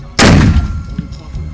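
A single artillery gun fires during a military operation: one sudden, very loud, close boom followed by a rolling, fading rumble.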